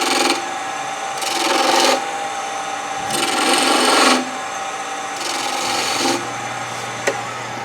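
A skew chisel's long point cuts wood on a lathe during offset turning, giving several loud rasping passes of a second or so each, separated by brief pauses, close and alone.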